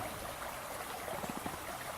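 Creek water flows and trickles gently at a campsite, a soft continuous babble with faint splashy bursts, quiet and alone.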